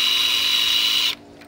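A cordless power drill or screwdriver whirs steadily for about a second in a backyard where a hole is being made near a pool fixture. It stops abruptly, leaving a quiet tail.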